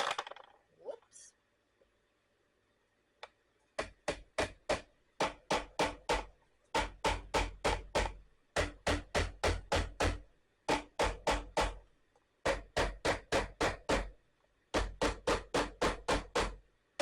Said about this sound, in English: to take my handy dandy little hammer and tack those in just a tiny bit.